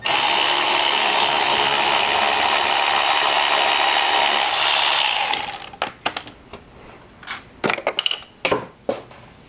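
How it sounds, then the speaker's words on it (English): Hand ratchet working a bolt loose on the engine of a VW Mk5 GTI: steady dense mechanical noise for about five seconds, then scattered sharp metallic clicks and clanks at irregular intervals, close and fairly loud. "I had to get to it from the top using a hand ratchet"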